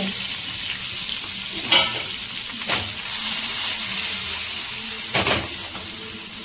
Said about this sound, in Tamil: இப்போ வெங்காயம் வந்து சேர்த்துக்கலாம்.